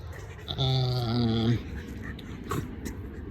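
A single drawn-out, nasal dog whine or howl lasting about a second, fairly close, then quieter background rustling and a faint click.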